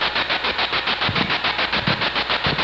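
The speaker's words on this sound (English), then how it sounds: "let's go ahead and turn the spirit box off for now" A ghost-hunting spirit box radio sweeps through stations, producing loud, rapid pulsing static bursts in a steady chopping rhythm that fills the whole stretch with no voices.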